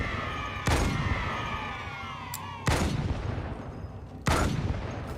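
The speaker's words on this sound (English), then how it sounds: "Now we're going to snipe the grunts." Sniper rifle in the video game Halo 2 firing at grunts, with three loud booming shots spaced about two seconds apart over a steady background hum of in-game ambience.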